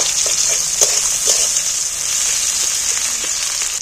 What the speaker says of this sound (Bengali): পেঁয়াজটা একটু তেলের মধ্যে ভালো করে ভেজে নেব